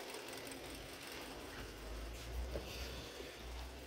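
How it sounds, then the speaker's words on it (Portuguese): Car engine idling roughly with the cylinder 1 fuel injector disconnected, a quiet, uneven mechanical chatter with irregular stumbles and knocks. "O motor começou a falhar."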